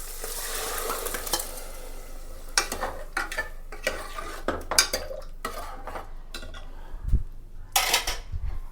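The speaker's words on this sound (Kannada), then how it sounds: "ದಾಲೆಲ್ಲ ಬೇಯಿಸ್ಕೊಂಡಿದ್ನಲ್ಲ ಅದನ್ನು ಹಾಕೋತಾ ಇದ್ದೀನಿ." Cooked dal goes into a frying pan of tempered spices for dal khichdi: a utensil scrapes and clinks against the pan in irregular strokes over a soft sizzle, close and without speech.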